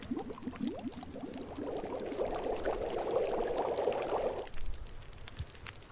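Boiled water poured in the survival game The Long Dark, a steady glugging pour that rises in pitch over a few seconds and then stops, close and moderately quiet.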